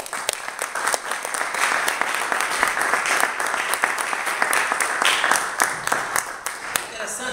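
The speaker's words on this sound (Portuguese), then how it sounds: "Dê um aplauso ao Senhor." Loud, sustained congregation applause during a church sermon, dense rhythmic clapping with sharp individual claps standing out, continuing steadily throughout with some voices mixed in.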